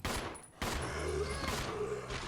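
Loud gunshots ring out in Resident Evil 0 HD Remaster as an enemy is put down, two heavy blasts with a ringing tail over a dim game background.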